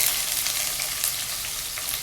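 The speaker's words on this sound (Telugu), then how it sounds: "ఫస్ట్ కొంచెం తాలింపు పెడుతున్నానండి" A tempering of chana dal, mustard seeds, cumin, red chilli, garlic and onion crackles in hot oil, a loud, steady, close sizzle with no talking.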